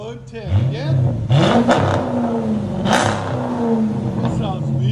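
Dodge Magnum RT 5.7L HEMI V8 through an aftermarket exhaust, several quick, loud revs that climb and drop over a deep rumbling idle, close by, with people talking briefly.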